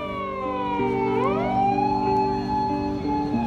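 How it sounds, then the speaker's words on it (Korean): An emergency vehicle siren wails on a street in Japan, its steady tone gliding between pitches while a vehicle engine hums underneath; it sounds fairly close and loud, alone without talk. "사이렌이 울려 저를 잡으러 왔나 겁이 났습니다."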